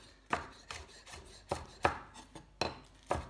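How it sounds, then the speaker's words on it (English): A knife chops spring onion on a cutting board in a series of crisp, close strokes landing in an uneven rhythm, about eight cuts with short pauses between them, with no voices. "begin to chop through and down and all the way through"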